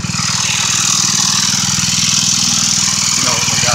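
A motorbike engine runs close and loud in a steady, even throb, holding a constant pulsing drone without revving up or cutting out.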